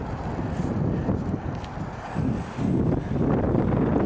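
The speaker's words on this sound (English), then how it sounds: "the wind's kind of gusty up there" Gusty wind roars and buffets steadily over the microphone outdoors, a continuous low rumble that swells in strength around the middle and stays loud to the end.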